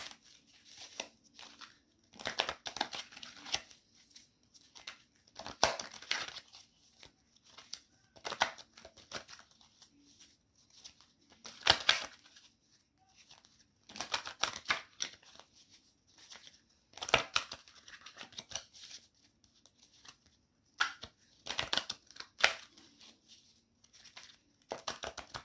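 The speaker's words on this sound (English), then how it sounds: "Oh, I love shuffling these cards, charging them up" Tarot cards being shuffled in a quiet room. The soft papery riffles and slides come in irregular bursts, close and gentle, with pauses between them and no voices.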